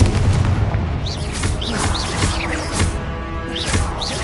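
Repeated fiery spell blasts from the Confringo curse in the video game Hogwarts Legacy, loud booming bursts over dense battle noise with whooshing magical effects recurring through the fight.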